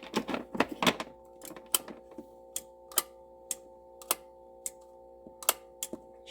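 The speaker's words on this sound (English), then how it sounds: "Still that clicking sound." Sharp, evenly spaced clicks roughly every half second, fairly close and dry, from a kids' 6-volt ride-on car with an old battery that powers the dash, sounds and headlights but won't drive, over a faint steady hum.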